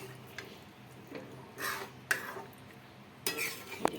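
A spoon scrapes and clinks against a cooking pot while roasted biryani masala is stirred into chicken biryani, with a few separate, fairly quiet metallic strokes and taps spread across a soft background.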